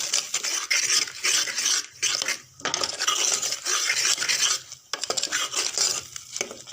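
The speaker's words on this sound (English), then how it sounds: "Let's stir it." A spoon stirs green peas masala in a pot, scraping and clinking against the metal in repeated close strokes with soft gaps between.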